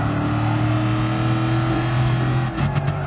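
A Shelby Cobra 427 in a classic racing game, its V8 engine droning loud and steady at high revs with the rear wheels spinning, then a brief dip and a shift in pitch near the end.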